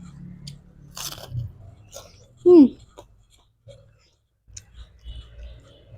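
A single sharp crunchy bite into crispy fried eggplant from a coconut-free fish curry, close and clear, amid faint chewing and quiet background sounds.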